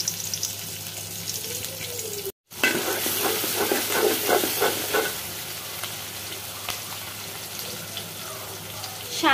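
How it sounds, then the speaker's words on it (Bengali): Onion frying in mustard oil for a fish-head muri ghonto, a loud close sizzle that flares up after a brief break, with stirring scrapes running through it. "পেঁয়াজ, আদা, রসুনগুলো আমি ভেজে নিব"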